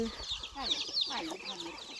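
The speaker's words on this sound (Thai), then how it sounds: "ไก่กินอาหาร" Chickens clucking as they peck at feed on a farm, a steady cluster of soft, close clucks and chirpy calls over faint background noise, with no talk.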